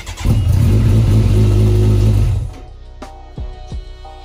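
A Kawasaki ZX14R motorcycle under rebuild fires up with a loud, close engine roar held for about two seconds. The roar then cuts back to a lower idle, broken by two or three quick throttle blips.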